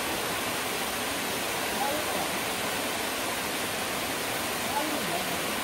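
Eden Falls waterfall roaring as a dense, constant wash of falling water close by, with people talking over it.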